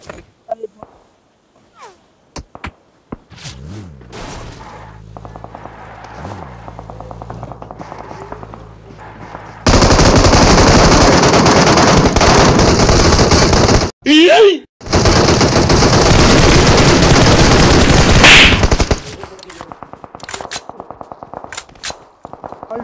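Gunfire in the PUBG Mobile video game comes in loud dense bursts of rapid automatic shots, with a short break between them, followed by quieter game sounds and scattered shots.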